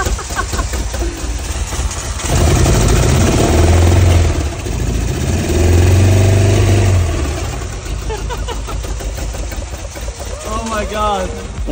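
A stolen Budget Evo with a blown engine cranks over on a fresh battery and catches, settling into a loud, rough-running rumble that swells twice, with voices talking over it throughout.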